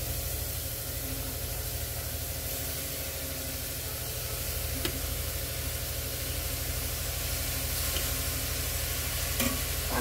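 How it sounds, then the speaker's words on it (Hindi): Grated carrot stirred in a hot pan with no ghee, a steady hissing sizzle with soft scraping and a couple of faint clicks, close and even with no talk. "इसमें हम ये सारा पिसा हुआ गाजर, ग्रेटेड गाजर को डाल देंगे।"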